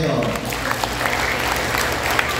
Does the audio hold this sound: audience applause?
yes